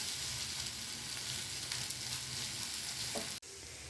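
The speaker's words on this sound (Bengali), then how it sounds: "এখানে দেখুন ডিম আর ডিম ভুর্জির সমস্ত উপকরণ একসাথে মিশিয়ে ভালোভাবে ভাজা হয়ে গেছে।" Steady sizzling of egg bhurji cooking in a pan with its spices, a close continuous hiss with light stirring, cutting off abruptly near the end.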